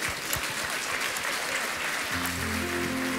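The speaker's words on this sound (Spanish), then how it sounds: "Denle un aplauso fuerte al Señor Jesús." Church congregation applauding loudly during a Spanish-language service, dense sustained clapping filling the room, with a band's low sustained tones entering near the end.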